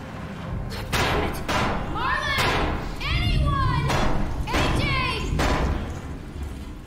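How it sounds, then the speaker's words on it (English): Banging on a locked door in The Walking Dead: The Final Season video game, a series of heavy thuds under loud chiming game sounds and a shouting voice. "I'm banging on the fucking door and no one hears me"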